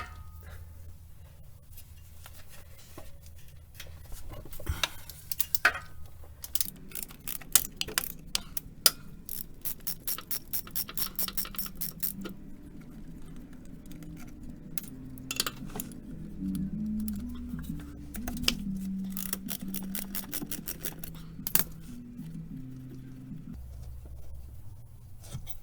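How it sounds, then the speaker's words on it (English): Socket wrench ratchet clicking in bursts while a 15mm socket works on the transmission mount bolts of a 1999-2004 Jeep Grand Cherokee, close and fairly quiet, with some knocks and handling noise and no speech. "Now these you can simply access just by using the 15mm socket"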